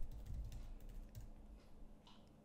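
Keys on a computer keyboard clatter softly and quickly in a continuous run while sign-up details are filled into an online form, faint and close with a low hum underneath.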